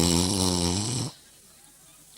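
A human voice imitates an old man's snoring: a loud, drawn-out rattling snore of about one second, then near silence.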